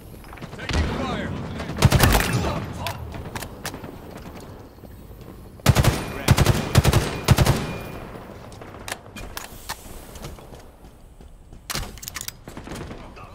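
Bursts of automatic gunfire from a Halo Infinite multiplayer match, with clusters of rapid shots around the first two seconds, a heavier volley near six to eight seconds and scattered single shots after, moderately loud and close, mixed with game effects.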